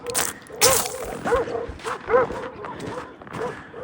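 Several dogs bark and yip repeatedly at moderate distance, in short irregular bursts over a noisy outdoor background.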